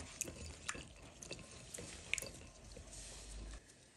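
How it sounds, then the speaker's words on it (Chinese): Red dates rubbed and rinsed by hand in a bowl of water, soft sloshing with scattered small drips and splashes close by, ending in a brief wash of running water. "用手搓洗搓洗，把红枣清洗干净。"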